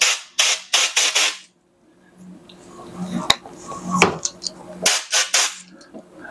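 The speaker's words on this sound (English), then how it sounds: "what I like to do is blow out the debris with an air compressor" An air compressor blows debris out of a PEX hose in several sharp, loud bursts of air, clustered at the start and again near the end, with quieter handling sounds in between.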